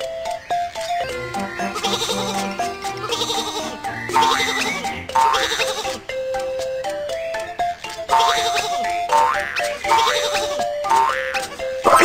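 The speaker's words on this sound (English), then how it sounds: "Some sheep are on the train track. Let's drive them away." Cartoon sheep bleat repeatedly on a train track in a Babybus children's train game, with bouncy game music and effects playing throughout.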